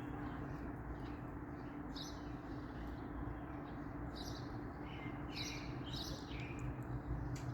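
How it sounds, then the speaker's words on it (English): Sparrows give quick little tweets in scattered clusters, fairly faint and distant above a constant low background hum. "those little tweets in between, those are sparrows."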